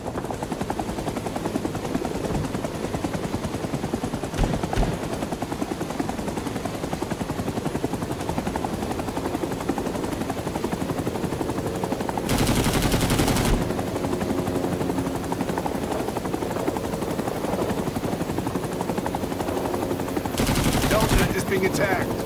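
Sustained machine-gun fire strikes and surrounds a Huey helicopter in Rising Storm 2: Vietnam. Loud rattling bursts run over the constant rotor drone, with two heavier, louder stretches of fire near the middle and end.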